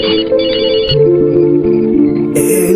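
A telephone rings loudly with a steady electronic melody of repeating tones, close and continuous, with no voices.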